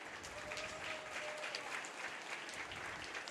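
At a county fair cattle show, spectators give a steady round of applause, a dense, even clapping heard from a distance and fairly faint, with no talking over it.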